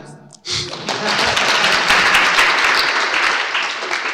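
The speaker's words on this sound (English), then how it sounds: "Clap." A lecture audience bursts into loud, full applause after a short pause, with steady dense clapping that holds strong for several seconds.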